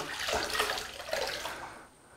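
Grout sponge being rinsed in a bucket of water during floor tiling, giving a continuous splashing, sloshing wash that fades near the end, close and alone.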